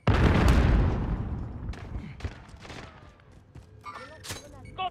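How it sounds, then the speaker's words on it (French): In Call of Duty: Modern Warfare, a loud grenade blast booms up front and decays, followed by scattered sharp gunshots and smaller impacts in a busy battlefield, with no talking. "Je balance une grenade."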